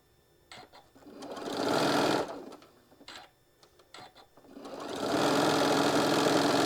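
Sewing machine stitching in bursts while chain piecing a stained glass quilt block, close and steady, with short stops and clicks of fabric handling between runs.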